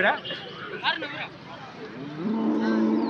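A cow at an outdoor cattle market in Anthiyur gives a long, steady low moo that rises late and holds to the end, with people talking nearby throughout.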